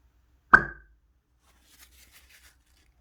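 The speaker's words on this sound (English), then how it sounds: "that sound you heard was a small explosion" A single sharp pop as hydrogen gas in a tube held over a flame ignites in a small explosion, followed by a few faint light clicks in an otherwise quiet room.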